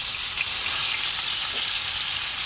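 Fish fries lightly in hot oil in a home kitchen, giving a steady, even sizzle and hiss that holds with no pauses through the whole stretch.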